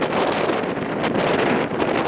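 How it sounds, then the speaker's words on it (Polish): Steady, blustery autumn wind roaring across the microphone at a mountain viewpoint on Szczytnik, with a constant rushing buffet and no pauses. "wiatr"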